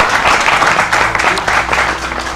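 An audience claps loudly and continuously, a dense crackle of many hands filling the short stretch without pause.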